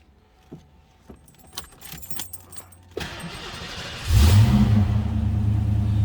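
Keys jangle and click near the ignition of a 1991 Ford Mustang LX convertible, then the starter cranks and the engine catches with a loud rev before settling into a deep, steady idle.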